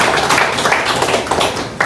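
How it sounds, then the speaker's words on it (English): An audience at a Kiswahili event in Butiama claps for the media crews, dense overlapping hand claps, loud and close, holding steady before tapering near the end. "Let's clap for them, please."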